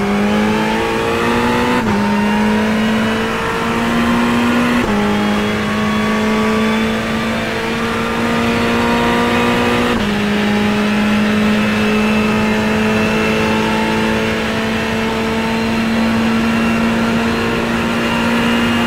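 A Ferrari GT3 race car in iRacing at Road Atlanta roars loud and close, its engine note climbing steadily through each gear, then briefly dropping at every shift before rising again.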